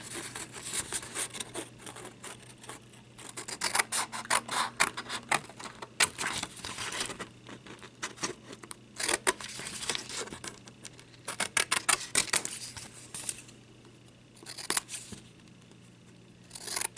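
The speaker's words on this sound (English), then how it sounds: "And then cut right around the edges." Scissors cut around the edges of a paper note card with steady, close, crisp snipping and crunching that comes in bursts with short pauses, no talking.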